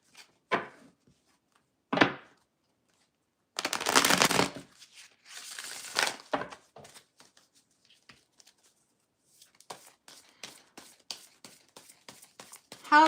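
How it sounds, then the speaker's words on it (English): Tarot cards handled and shuffled up close, with sharp snaps and taps, a couple of longer riffling bursts, then a run of quick light flicks. "One more shuffle."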